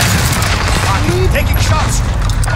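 Call of Duty Warzone gunfire in the gulag, a loud sustained rattle of shots over a deep rumbling bed, with a brief voice and game chatter mixed in.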